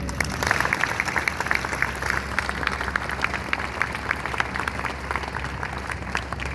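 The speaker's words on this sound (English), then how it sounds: "one more round of applause, please, for Class 20 BB" A crowd at a graduation ceremony gives a graduating class a steady, sustained round of applause, dense and fairly loud throughout.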